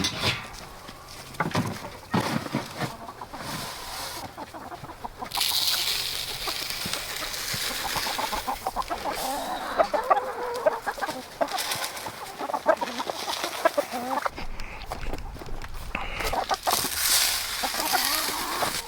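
Chickens cluck and murmur inside a backyard coop, a busy mix of calls at moderate distance, with rustling and occasional louder bursts and a brief faint voice.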